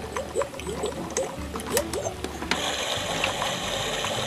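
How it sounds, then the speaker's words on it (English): A Fisher-Price Ocean Wonders Aquarium baby toy plays its bubble sound setting, a steady watery bubbling wash that enters about midway, following a stretch of soft repeating music-box tones. "Get bubble sound"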